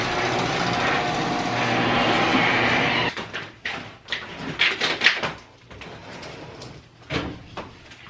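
A pet play gate being set up in a pantry starts with a steady rushing noise, then turns into a string of clattering clicks, rattles and knocks as its parts are moved and locked in place.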